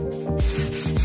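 Hand sanding of an Art Deco wooden buffet with a foam sanding pad, close and loud rhythmic back-and-forth rubbing strokes repeating about three times with a scratchy, gritty texture.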